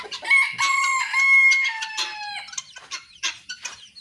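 A caged Bangkok rooster crows loudly and close by, one long drawn-out call with clucking and other fowl noises in the pen after it.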